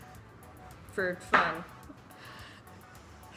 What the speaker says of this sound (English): If you hear any chopping in the background, that's my roommate cutting up a cucumber.